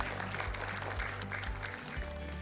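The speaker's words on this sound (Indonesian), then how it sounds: "Boleh kita berikan tepuk tangan." Audience applause at an Indonesian women's gala celebration, fairly faint and even, with a low musical hum running beneath the clapping.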